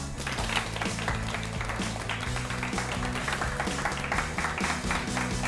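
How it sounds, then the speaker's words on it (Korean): A studio audience at a Korean lecture show applauds to welcome a guest lecturer, the clapping steady over a bed of low, sustained music. "이준배 대표님을 큰 박수로 맞이해주세요."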